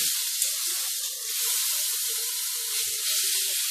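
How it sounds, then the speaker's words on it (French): Beef steak sizzling loudly and steadily in a hot frying pan, a continuous close hiss of fat and juices with faint scrapes as a spatula turns the meat. "la cuisson de mon steak est partie. Vous le retournez avec une spatule délicatement."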